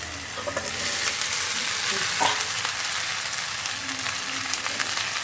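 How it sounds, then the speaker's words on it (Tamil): Onions sautéing in a pan for idli upma, a continuous dense sizzle with stirring scrapes of a spoon, close and steady throughout. "நல்லா வெங்காயம் நல்லா வதக்கணும்."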